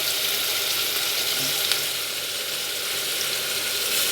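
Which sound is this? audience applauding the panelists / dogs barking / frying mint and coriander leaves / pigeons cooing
frying mint and coriander leaves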